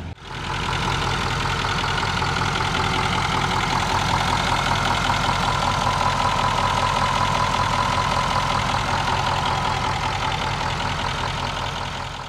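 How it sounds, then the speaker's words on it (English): A 5-liter Cummins turbo diesel V8 in a 2016 Nissan Titan XD pickup idles steadily and loudly up close, a deep, even rumble with a faint knocking rhythm that holds for the whole stretch. "It is powered by the 5-liter Cummins direct injection turbo diesel V8 engine."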